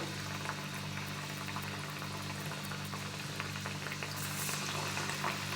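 Gram flour batter for motichoor laddu deep-frying in oil, sizzling and bubbling steadily with a constant hiss, close and unbroken, with a faint low hum underneath.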